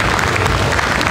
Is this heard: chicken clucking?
no